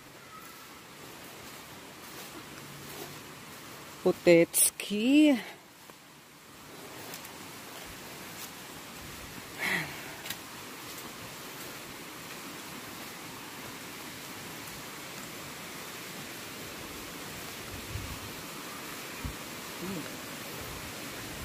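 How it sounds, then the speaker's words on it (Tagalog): Running water nearby along a rural path, a steady faint hiss of flowing stream beneath brief spoken words and a few footstep-like knocks. "parang naririnig ko na yung tubig"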